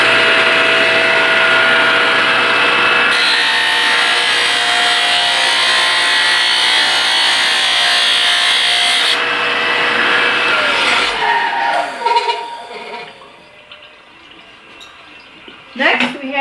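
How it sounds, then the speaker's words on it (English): A TaylorCut saw cuts an angle on flat stock with coolant running, a loud steady grinding roar that holds, then winds down and falls quiet, with a short clatter at the end. "We have a piece of flat stock here we're going to cut an angle on. I want coolant back on this time."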